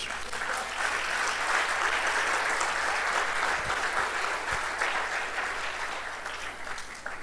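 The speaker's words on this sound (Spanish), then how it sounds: "¿Cuándo pueden dar un aplauso a Jesús?" Sustained applause from a church congregation fills the space steadily, dense and even throughout, easing slightly toward the end.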